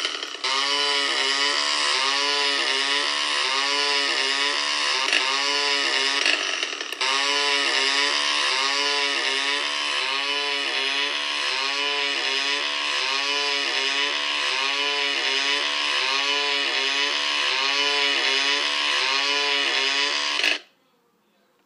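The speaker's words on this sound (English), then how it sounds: "Next, chainsaw." A buzzing chainsaw weapon in the PC game Desktop Destroyer runs steadily and loudly for about twenty seconds with a rapid, even rattle and a brief hitch midway, then cuts off abruptly.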